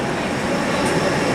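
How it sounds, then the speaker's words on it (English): Southeastern trains at London Victoria Station give off a loud, steady rumble of rail traffic, a broad continuous roar heard from inside the station's Wetherspoons, with no distinct clatter standing out. "You get a view of the trains, southeastern trains on this side"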